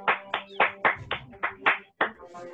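Applause from an audience at a triathlon awards ceremony, a burst of sharp, fairly close hand claps in an uneven rhythm that continues steadily for a couple of seconds.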